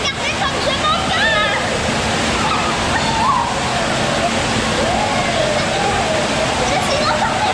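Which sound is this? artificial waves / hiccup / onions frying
artificial waves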